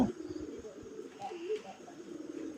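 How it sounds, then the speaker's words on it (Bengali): A pair of red Rajgolla pigeons coo softly in a low, rolling rhythm, a few calls overlapping against a quiet background with light rustling. "সুন্দর একটা টকটকা লাল রাজগোল্লা কবুতর খুব সুন্দরভাবে ডাকাডাকি করতেছে"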